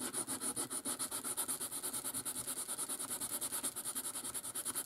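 Drink-stirrer mixed media art tongs being filed by hand, with a fast, steady run of close scraping strokes repeating evenly throughout and no talking.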